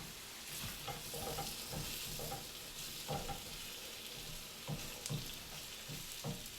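Stir fry sizzling in a hot wok with a steady hiss, punctuated by soft scraping and clatter as it is stirred every second or so, fairly close.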